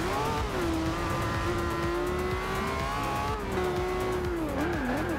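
A Lamborghini Aventador in the racing game Forza Horizon 2 accelerates hard through corners, its engine droning loud and steady with shifting pitch and tires squealing, with no talk over it.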